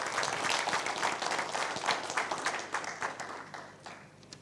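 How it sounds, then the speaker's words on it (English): An audience applauds at the opening ceremony of the 29th Mona Symposium, a steady wash of clapping from a full room that gradually fades out. "a round of applause."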